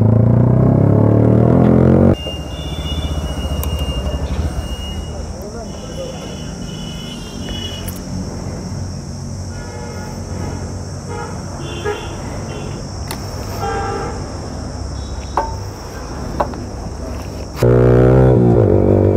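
Loud roaring car engine fitted with an SC Project exhaust, sustained through a burnout with a steady broadband rumble, with a horn-like tone running above it and brief bursts of louder noise at the start and end.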